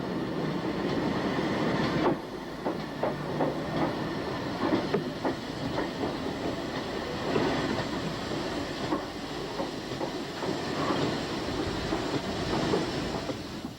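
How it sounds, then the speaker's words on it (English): A 1958 train with a Western Region Class 4200 2-8-0 tank engine at the rear rolls past near the Lickey Bank, giving a steady rumble with rhythmic clickety-clack from the wheels, moderately distant and fairly quiet, with no talking. "On the back of this train is a Western Region Class 4200 280 tank, number 5226"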